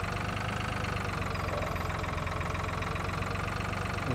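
A tractor engine in the video game Farming Simulator 2013 drones steadily and evenly throughout, a continuous mid-low hum with no pauses or talk.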